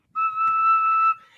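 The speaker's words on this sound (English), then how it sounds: "I got my Irish tin whistle." A single sustained note on an Irish tin whistle, clean and fairly loud, held for about a second with a sharp start and stop.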